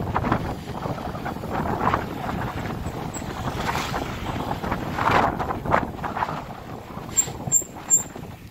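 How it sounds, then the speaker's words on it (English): Steady wind in Miyazaki buffets the microphone with a constant rushing roar, close and fairly loud, with a few faint high tones near the end. "it's a little windy today"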